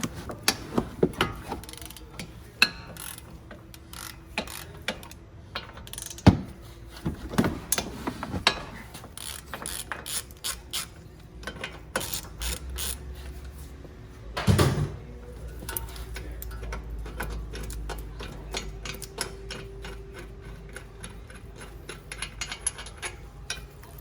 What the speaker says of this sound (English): I of course recommend using a half-inch drive ratchet and socket.